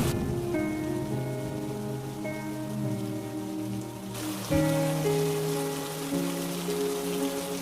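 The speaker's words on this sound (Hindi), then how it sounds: "कुछ दिनों बाद गांव में भयंकर बारिश शुरू हो गई।" Heavy rain pours over a village, a steady broadband hiss running continuously beneath sustained background music for the whole stretch, with no voices.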